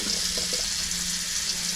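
Water runs steadily from a tap into a kitchen sink and down its freshly unclogged drain, a constant close hiss and splash with no talking.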